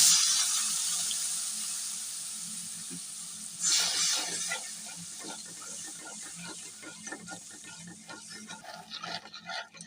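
Water hisses and sizzles as it hits a hot pan of frying coriander powder and ginger-garlic paste, a bright burst followed by crackling, bubbling sizzle that gradually settles.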